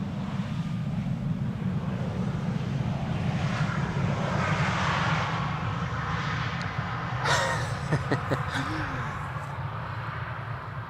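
A plane arriving at Amsterdam Schiphol Airport gives a steady, broad engine roar throughout, with a few brief clicks and a short tonal chirp near the end.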